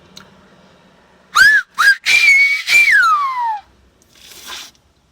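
Loud, piercing finger whistles: two short rising chirps, then a long sustained note that slides downward, with a fainter breathy whistle trailing after.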